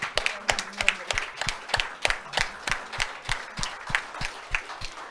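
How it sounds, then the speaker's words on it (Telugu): An audience at a memorial gathering and book event claps in a standing ovation, with sharp, uneven hand claps from a modest group, fairly near and continuing steadily. "మనమందరము కూడా ఆవిడకి స్టాండింగ్ నిలబడి మన చప్పట్ల ద్వారా తనకు అభినందనలు చెప్దాం."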